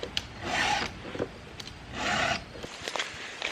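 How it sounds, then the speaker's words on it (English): Two slow, rasping strokes of a file sharpening a chainsaw chain, close by, with scattered small knocks and clicks between them. "I'm just giving my chainsaw blade a once over."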